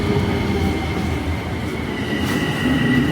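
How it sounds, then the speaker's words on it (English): A train passes through a New York City station with a steady, close rumble of wheels and carriages and faint squealing from the rails, continuous throughout. "I love me the sound of a train."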